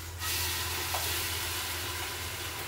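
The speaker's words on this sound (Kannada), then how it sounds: "ಇವಾಗ ಎಣ್ಣೆಲಿ ಸ್ವಲ್ಪ ಗಟ್ಟಿ ವಾಸನೆ ಹೋಗೋಂಗೆ ಫ್ರೈ ಮಾಡ್ಕೋಬೇಕು." Ground spice paste of onion and spice powder frying in oil for a country chicken sambar, giving a steady, close sizzle that fills the whole stretch with no talk.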